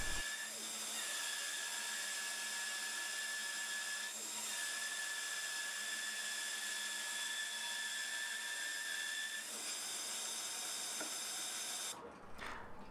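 A bandsaw cutting wood, likely scaffold board, whines steadily with a high, tonal hum through most of the clip, the pitch dipping briefly at a few points before a clatter at the end.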